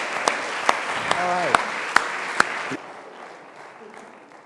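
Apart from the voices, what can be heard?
audience applause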